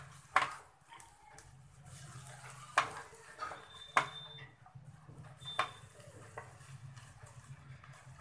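Cabbage and egg stir-fry being stirred in a pan after lid removal, a quiet low sizzle broken by several sharp metal spatula knocks and scrapes against the pan at irregular intervals, no talking.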